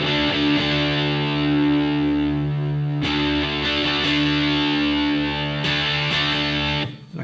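Electric guitar played through a modded Boss XT-2 Xtortion distortion pedal, sustained heavily distorted chords ringing out with a few sharp strummed attacks, clear and prominent without any talking.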